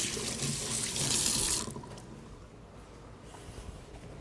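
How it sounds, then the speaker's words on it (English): Tap water runs hard into a kitchen sink while hands are washed during cooking, then the flow eases to a softer trickle and splash, close and fairly quiet with no talking. "Let me just wash my hands a minute."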